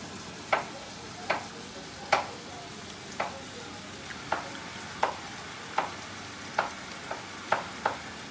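Garlic frying in a pan for keto arroz con pollo, with about ten sharp clicks and scrapes of a stirring utensil against the pan spaced roughly a second apart over a low steady background and no talk.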